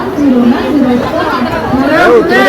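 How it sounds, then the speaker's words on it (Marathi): Crowded railway platform beside the Konkan Kanya train as passengers get off, with steady close babble of many voices and people talking throughout. "आहे गर्दी, जाम जाम गर्दी आहे."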